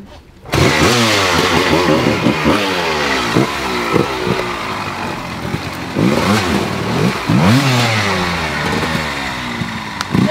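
A motorcycle engine revs repeatedly up and down, loud and close, its pitch rising and falling in rapid surges throughout.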